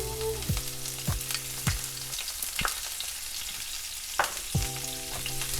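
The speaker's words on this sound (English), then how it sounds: "So I've got some oil heated up in a pan, and I'm going to start by adding 1 teaspoon of cumin seeds." Cumin seeds with garlic, ginger and chillies splutter and sizzle in hot oil in a pan for an Indian vegan kebab, crackling steadily with sharp pops scattered throughout, close by, with no voices.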